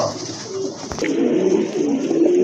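A pair of pigeons, including a nun pigeon, coo close by in low, throaty murmurs over a steady background hum, with one brief sharp knock.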